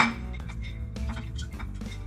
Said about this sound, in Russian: мы кладем в наш коньяк 12 ягодок сушеного